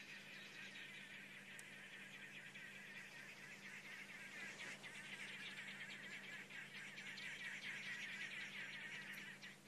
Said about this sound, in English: Oh, noisy birds.